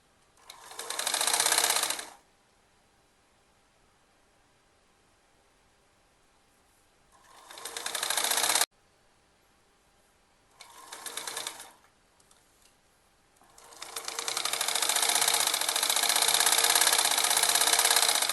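A domestic sewing machine fitted with a size 5 needle stitches a half-inch elastic casing on a baby frock, running in three bursts: a short loud run, a brief middle burst, then a long steady run, close and alone without talk.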